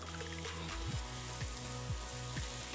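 Batches of pork meat sear and sizzle in a hot pan for a Norwegian lapskaus stew, a steady close frying hiss with a few soft stirring scrapes, no voices.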